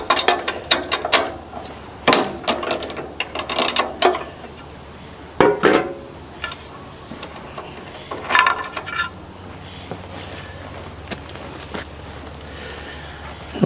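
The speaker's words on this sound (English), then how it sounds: "I'll take out the spark plug and check it" A ratchet removing the spark plug from a garden tractor engine, bursts of fast metallic clicking with pauses between, close and loud, with faint clinks of tools and no talk.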